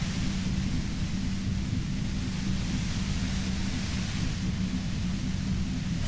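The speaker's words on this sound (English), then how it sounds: "You hear through the white noise. It's especially bad suddenly." A constant, dense wash of static-like white noise fills the head in Disco Elysium, steady and loud throughout with a low rumbling hum beneath, no voices.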